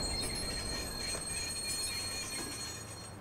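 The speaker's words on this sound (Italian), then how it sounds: "però facciamo partire il treno" A train rolls along the tracks in the video game Watch Dogs, a steady rumbling run with high metallic wheel squeal ringing over it, close and continuous throughout before easing slightly at the end.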